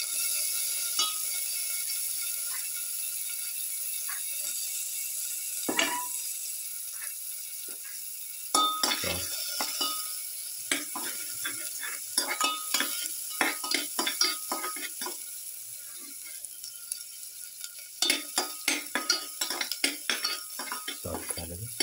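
Shallots fry in a pan for a pepper chicken potato stew, a steady sizzle under frequent clicking and scraping of a utensil that grows busier midway.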